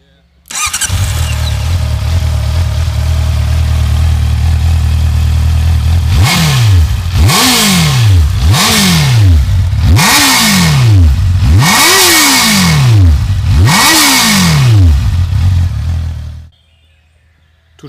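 Honda CB650F inline four-cylinder motorcycle engine idling close up, then revved hard six times in quick, evenly spaced blips that each rise and fall, before the engine abruptly shuts off.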